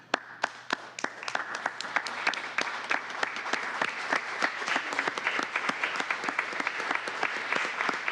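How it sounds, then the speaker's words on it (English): A room at a city budget committee meeting applauds the adults supporting local youth. Scattered sharp claps build into steady, dense applause that holds for several seconds without talk. "we can give the adults who are supporting these youth a round of applause here."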